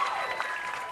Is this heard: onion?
no